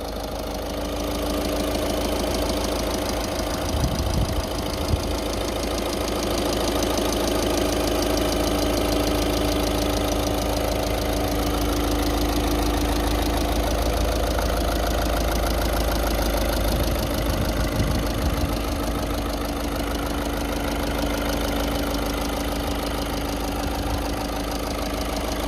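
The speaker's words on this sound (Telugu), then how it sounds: "సో ఇంజిన్ సౌండ్ అయితే చూడొచ్చండి మీరు." A 2018 top-end Volkswagen Vento diesel car engine idles steadily and close by, a continuous even rumble with a faint knocking texture, no voices and no change in pace throughout.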